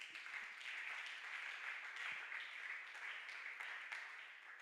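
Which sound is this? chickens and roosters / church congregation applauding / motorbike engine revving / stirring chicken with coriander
church congregation applauding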